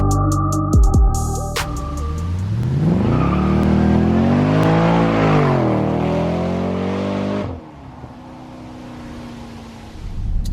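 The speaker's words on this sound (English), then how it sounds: "Supercharging a 5-litre engine and putting it in the XF is a really good idea in my books." A supercharged 5-litre Jaguar XFR accelerates hard on a country B road in the UK, its engine note rising and falling through the revs, loud and close, before cutting off abruptly.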